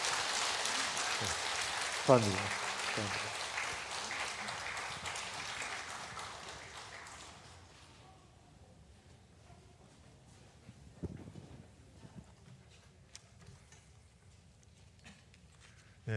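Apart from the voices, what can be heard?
applause in a church service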